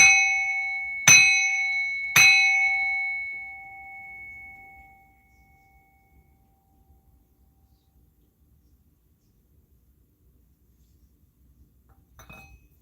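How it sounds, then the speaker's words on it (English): A bell is struck three times in close succession, each ring clear and bright with a long, slowly fading tone in a quiet room, followed by near silence, rung as part of a spiritual cleansing of negative energies. "let me ring this bell, to remove, cleanse all negative energies, entities out of my home"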